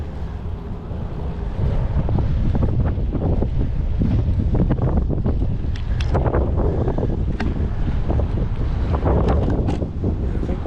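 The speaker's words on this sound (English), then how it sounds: "wind is kind of squirrely, swirling around" Strong, gusting wind buffets the microphone outdoors on an autumn bike ride, a continuous loud rumble with swirling surges and no voices.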